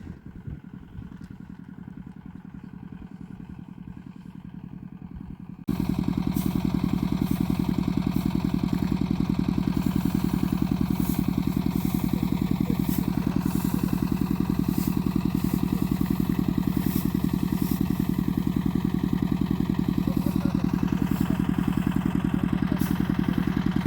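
A tractor engine runs steadily and loudly with a low chugging drone, growing noticeably louder and closer after a few seconds, with no voices.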